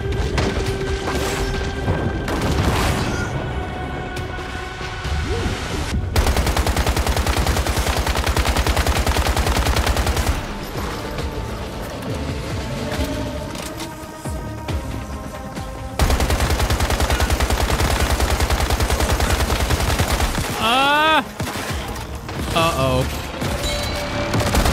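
Sustained, loud gunfire from a gun in the survival shooter Once Human, rapid bursts ripping on and off across the clip against game ambience, with a creature's shrill cries near the end and someone talking over it at times.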